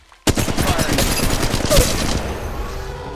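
Gunfire in a mobile video game played on a Mi 11X phone bursts in suddenly, a rapid close volley of shots that keeps rattling on, fairly loud, with faint game voices under it.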